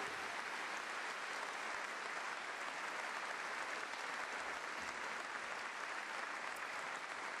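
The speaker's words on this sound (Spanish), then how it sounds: "Dale un fuerte aplauso al Señor en esta hora." A church congregation breaks into loud, sustained applause, a dense unbroken wash of many hands clapping that fills the room evenly from start to finish without anyone speaking.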